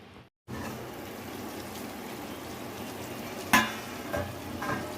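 Potatoes boiling in a covered pot for a Kolkata-style biryani, a steady close simmering hiss with soft bubbling, one brief clatter partway through and a few small knocks near the end.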